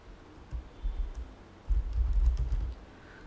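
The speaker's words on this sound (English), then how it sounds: "So click on new, type any name like Windows 7 test machine." Computer keyboard typing in two short bursts of soft, close keystrokes, with a pause between them and no talk.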